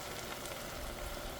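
Butter, about a third of a stick, sizzles as it melts in a hot pan while a ribeye steak dinner is cooked, a steady, soft crackling hiss that runs evenly throughout.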